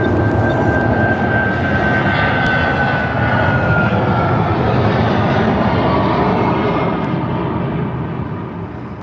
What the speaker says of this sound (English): This Boeing 737 struggles to get airborne before the end of the runway.